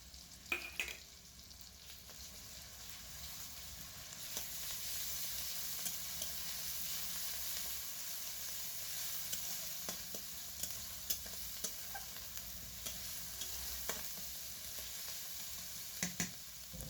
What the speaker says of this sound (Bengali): মশলাটা খুব ভালো করে ভেজে নেব